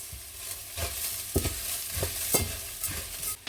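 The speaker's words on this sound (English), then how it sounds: "You're going to add in your green split peas" Dry green split peas pour and rattle into a soup pot over a soft sizzle, with a few scraping stirs.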